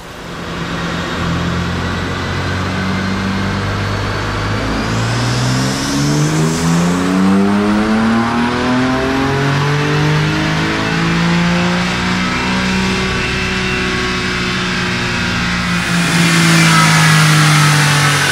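A car engine on a dynamometer pulls through a long rising rev sweep, its harmonic drone climbing steadily, loud and close, before easing off and flaring up again near the end.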